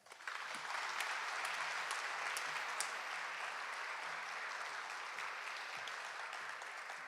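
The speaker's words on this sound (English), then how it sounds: "Please give a nice round of applause to Tati Mari" An audience at a student film festival awards ceremony applauds to welcome a host to the stage: a steady, even wash of many hands clapping, fairly faint and distant throughout.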